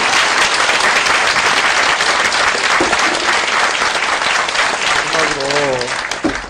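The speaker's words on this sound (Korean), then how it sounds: "여기까지만 하고 이제 나가실 건데 박수 부탁드립니다" An audience at a crowded press event breaks into loud, dense applause that holds steady for the whole stretch, with a voice briefly speaking through the clapping near the end.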